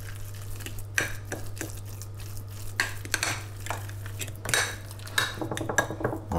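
Cutlery scrapes and clinks against a bowl as a lemon, pepper and salt mixture is stirred, with sharp irregular taps and scrapes close by, no one talking, and a steady low hum behind.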